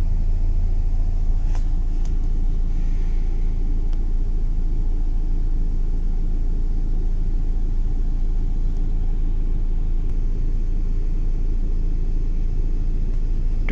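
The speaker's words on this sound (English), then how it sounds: "car is start." A Mercedes-Benz car engine idles steadily with a low, continuous rumble, close by and unchanging throughout.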